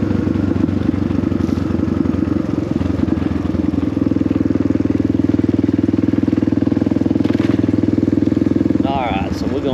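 A 1993 Suzuki DR350 kickstart-only dual-sport motorcycle engine runs steadily with a loud, continuous low thump close by, and a brief faint voice comes near the end.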